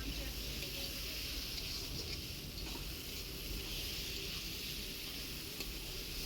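Mutton sautéing in spice masala gives a steady, even sizzle with faint stirring, a continuous hiss that stays moderately quiet throughout with no clear talk over it.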